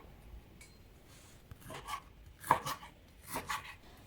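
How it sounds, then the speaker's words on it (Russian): Knife chopping beef fillet into small cubes on a board, a few soft, close cuts spaced irregularly, growing slightly firmer toward the end against a quiet kitchen background. "Режу мясо кубиками небольшими."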